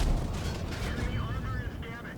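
G.Pz artillery firing in World of Tanks, a deep booming blast at the start rolling into a long rumbling tail, with game voice chatter over it.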